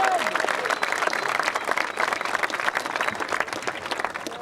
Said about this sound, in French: Et je crois qu'on peut applaudir l'équipe d'Allemagne.